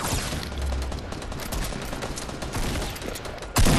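Rapid, dense bursts of gunfire in a Fortnite match, loud and continuous with a sharper crack near the end, with no talking over it.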